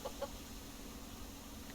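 A chicken gives two brief clucks near the start in the survival game Subsistence, set against a steady, faint background hum with no other sounds.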